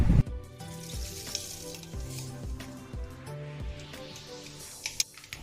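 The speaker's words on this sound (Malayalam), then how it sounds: "ഇനി നമുക്ക് കുറച്ച് വെളിച്ചെണ്ണ ഒഴിച്ചു കൊടുക്കാം." Coconut oil sizzles in a hot pan on the stove, a soft steady crackle, with faint rhythmic knocks and clicks over it and no talking.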